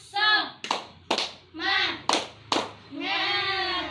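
A class of sixth-grade children chants a rhythmic cheer in unison, their voices broken by four sharp, loud group handclaps in a quick patterned sequence between the sung phrases.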